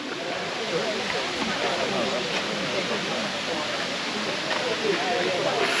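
An 87-metre waterfall at Plitvice Lakes, Croatia, the country's highest, fills the air with a steady, unbroken rushing roar, even and dense from start to finish, like a constant wash of falling water.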